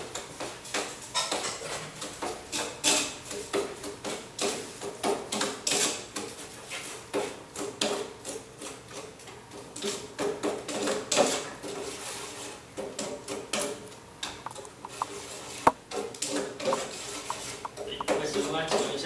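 Sugar being stirred in a pot while cooking a syrup for Taiwanese red bean cake filling, a steady run of scraping, clinking utensil strokes against metal throughout, with occasional talk over it.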